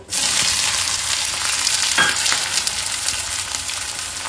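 Meat with sugar frying hard in a pan, a loud, continuous hiss and sizzle up close that flares right away and keeps going, with a faint stir partway through.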